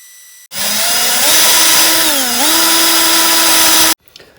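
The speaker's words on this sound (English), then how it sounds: "We'll move to a bigger drill." Larger drill enlarging a rivet hole in a Dinky Toys 23E Spirit of the Wind diecast toy car, a single loud, close motor whine lasting about three seconds that dips briefly in pitch under load before stopping abruptly.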